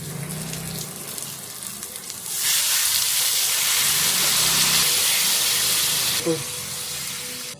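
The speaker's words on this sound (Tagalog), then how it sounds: "Ilagay natin to karne pare ko na hiniwa na." Sliced meat tipped onto onions in a hot pan bursts into loud, steady sizzling and hissing that lasts several seconds, then settles back to a softer fry, with a brief clatter near the end.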